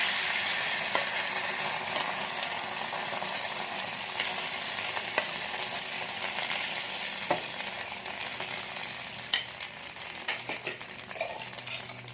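Egg omelette batter frying in hot oil inside a ladle over low heat, a continuous close crackling sizzle with occasional light metal clicks, steady and fairly quiet, no speech.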